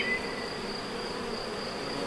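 Honeybees buzzing steadily around an open hive box, a close, continuous droning hum with no talk.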